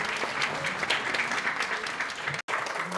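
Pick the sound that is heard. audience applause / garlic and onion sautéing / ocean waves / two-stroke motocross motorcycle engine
audience applause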